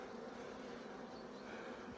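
Honeybees drone steadily at a hive on a rainy day while foragers return carrying pollen, a faint, continuous buzz with no voices over it.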